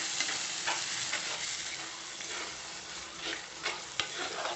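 Lentil ball curry with onion and tomato is stirred in a pan. A spoon scrapes and mixes the thick, sizzling curry in close, steady strokes, with a few louder knocks against the pan.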